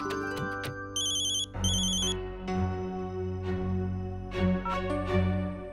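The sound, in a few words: phone ringing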